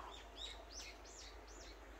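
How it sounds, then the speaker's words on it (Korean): Small birds sing outdoors near a garden, a few faint, quick rising-and-falling chirps repeating over a low steady rumble. "새소리 좋고,"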